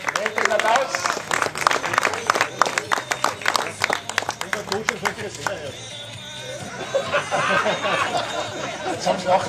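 Audience applause at a junior awards ceremony in Langkampfen in 2016: dense, loud clapping from a crowd for about six seconds, then fading into murmured chatter and scattered laughter.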